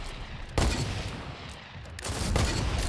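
Two sharp shotgun blasts crack out in Fortnite gameplay at Tilted Towers, close and loud, with a busy game backdrop between the shots and a fainter follow-up burst near the end.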